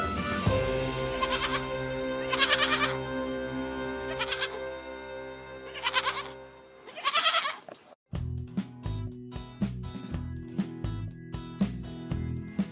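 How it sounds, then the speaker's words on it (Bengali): A goat kid bleats several times in short, wavering cries over a steady musical backing, with the bleats rising loudly at intervals. "ছয়ে ছাগল ছানা লাফিয়ে চলে"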